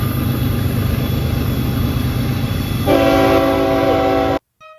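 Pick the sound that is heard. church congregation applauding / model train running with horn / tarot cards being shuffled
model train running with horn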